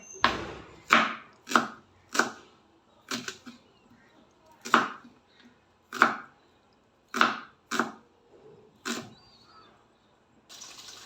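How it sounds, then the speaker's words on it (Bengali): A knife cuts a potato on a board in a home kitchen with about a dozen crisp, separate chops in an uneven rhythm. Short quiet gaps fall between the strokes, heard close and clear with no talk. "আমি আলুটা কেটে নিচ্ছি।"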